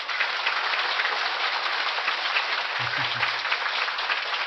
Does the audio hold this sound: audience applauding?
yes